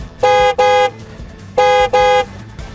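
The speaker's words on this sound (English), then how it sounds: "I must give him attention via car horn." A car horn honks loudly in two quick double blasts, each pair made of two short bright toots with a brief gap between them, over quiet background rumble.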